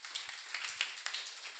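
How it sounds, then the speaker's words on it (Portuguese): A church congregation applauding, a soft, fairly distant patter of many hands clapping steadily with a few sharper claps standing out, no voices over it. "Aplauda Jesus bem forte."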